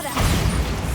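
A Bombarda blasting spell from Hogwarts Legacy goes off in a single short, heavy boom with a rumbling low thud that fades quickly, heard clearly with no talking over it.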